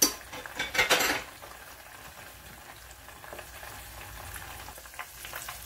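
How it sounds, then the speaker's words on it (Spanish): Guajillo chiles in a frying pan, a quick clatter of a utensil against the pan at first, then a faint, steady sizzle near by without talk. "Aquí los chiles que yo tengo en este sartén, los chiles guajillos, los tenemos que estar viendo porque estos tienden a quemarse."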